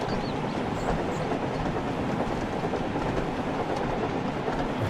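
Toy train carriages bounce and rattle along a track in a Thomas and Friends video game. A continuous rolling rumble with faint clatter plays throughout at an even level.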